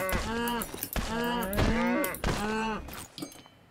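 Cows mooing in a farming video game, three long, drawn-out bovine calls one after another, loud and close, with faint background game noise between them.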